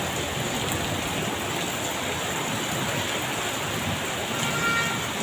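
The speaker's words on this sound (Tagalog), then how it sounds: "Ang lakas ng ulan, grabe" Heavy rain pouring steadily on a Saturday, a dense, constant hiss of downpour that fills the whole stretch evenly and loudly, with no voices.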